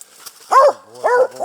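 A hunting dog used for treeing squirrels gives two sharp, close barks about half a second apart.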